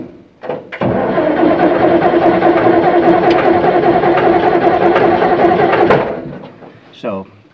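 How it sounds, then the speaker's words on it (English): German Sd.Kfz. 251 halftrack engine cranking on its starter without catching, a loud, steady churning drone lasting about five seconds before stopping, with short thumps just before and after. "and you can hear the engine turn over."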